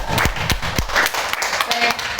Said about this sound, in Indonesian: Baik, tepuk tangan dulu Bapak Ibu.